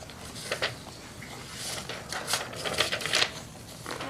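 Paper documents shuffled in a courtroom during a trial, with soft rustles and a few sharper crinkling bursts spread irregularly over a quiet room background.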